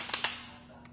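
Springfield Armory pistol slide racked with a metal-on-metal clack: two sharp, close clicks in quick succession followed by a fainter click, heard alone.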